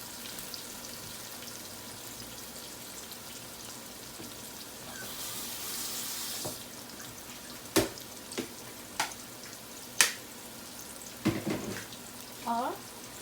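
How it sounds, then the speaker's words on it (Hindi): Chicken frying with onions in a pan for a chicken karela dish, a steady low sizzle throughout with a brief louder hiss and scattered clinks of a utensil against the pan. "चिकन को अच्छी तरह फ्राई करें।"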